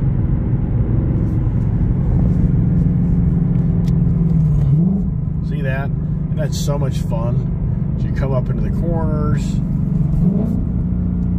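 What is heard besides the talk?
V8 car engine revving and exhaust popping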